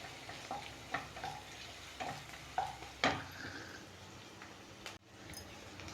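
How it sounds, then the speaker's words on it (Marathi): Onion roasting with ginger-garlic paste in a pan for masala bhindi, a soft, quiet sizzle broken by a few spatula scrapes and taps, close and without talk. "कांद्यासोबतच आलं लसूण पेस्ट पण आपण भाजून घेऊ थोडंसं."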